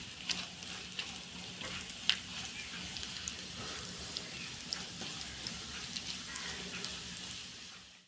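Cashews and raisins fry in ghee with soft, steady sizzling, faint crackles and pops throughout, fairly quiet and close.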